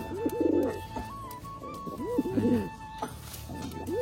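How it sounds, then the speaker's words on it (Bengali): Pigeons coo close by in soft, throaty bursts, several calls repeating over a few seconds against a faint background hum. "পায়রার ডাকটাও কিন্তু বন্ধুরা অনেক সুন্দর"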